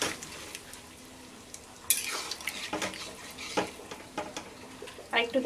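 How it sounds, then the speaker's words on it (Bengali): Water is poured into a hot cooking pot of taro stem curry (gati kochur dom), setting off a sudden loud sizzle and splash over faint kitchen clatter, followed by a few softer stirring knocks. "এবার আমি এর মধ্যে দিয়ে দেব পরিমাণ মতন জল, খুব বেশি আমি জল দেব না"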